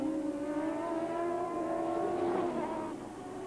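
IndyCar race cars drive around a hilly circuit on the final lap, giving a sustained droning engine whine with steady harmonic tones that rise slightly in pitch before fading somewhat near the end.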